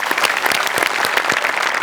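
A studio audience at a Marathi comedy show claps without a break, a dense, loud burst of applause with no voices over it.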